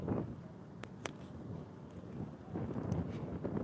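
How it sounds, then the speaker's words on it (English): Outdoor wind in California buffets the microphone in steady low rumbling gusts that swell louder near the end, with no voices. "Yeah, y'all, that's the wind, y'all."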